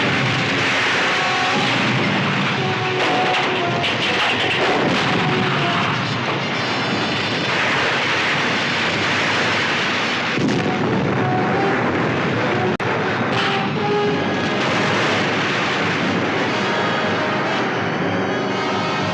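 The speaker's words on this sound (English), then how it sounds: "Fire number 1 turret." Naval turret guns firing at sea in a 1961 monster film, heavy booming blasts and rumbling roll continuously and loudly over a dense, noisy battle soundscape with no speech.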